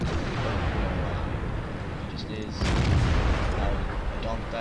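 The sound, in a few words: tank cannon shot in World of Tanks video game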